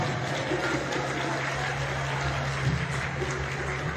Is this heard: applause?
yes